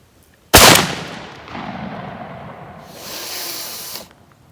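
A 20 gauge black powder shotgun with paper hulls fires a load of .31 caliber single aught buckshot outdoors, giving one sharp, loud blast that decays into a long hissing rumble before a second, softer hiss fades out.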